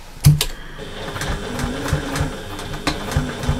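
A sewing machine stitches all the way around a slouchy bag, its close, rapid mechanical chatter running in short uneven bursts with small knocks between them.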